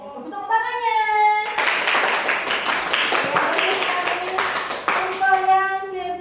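Children applaud in a classroom, a burst of loud rapid clapping lasting several seconds, framed by voices chanting in a sing-song manner before and after.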